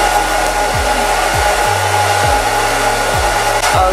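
An Elegant soft bonnet hooded hair dryer blows with a steady, loud rushing hum, its low motor tone wavering and dropping in pitch at regular intervals.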